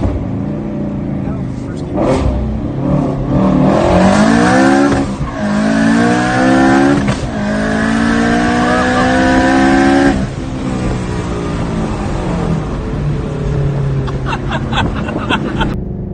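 A twin-turbo Ford Mustang GT350 running on E85 accelerates at full throttle through several gears, the engine climbing loudly in pitch with each pull, brief dips at the shifts, and tire noise and talk from inside the car.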